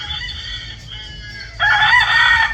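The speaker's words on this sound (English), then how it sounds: "when the other rooster crows, then he crows" A rooster crows loudly and close, a drawn-out cock-a-doodle-doo, with another rooster's fainter crow and some clucking beforehand.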